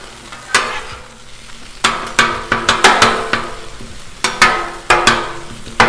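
Ground taco meat sizzles on a Blackstone griddle while a spatula chops and scrapes it in quick, irregular metallic clacks over a steady frying hiss, close and fairly loud.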